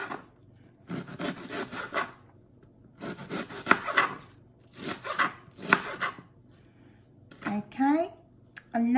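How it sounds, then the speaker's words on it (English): A knife finely slices an onion on a board in repeated bursts of close, crisp cuts separated by short pauses, and a voice speaks briefly near the end. "So all I'm doing is slicing it like that way, and then I'm going to do really carefully slice there"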